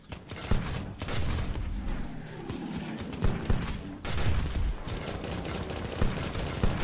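Rapid bursts of gunfire and explosive booms from a tower in the game Steampunk Tower 2, dense and continuous, with crackling impacts layered throughout.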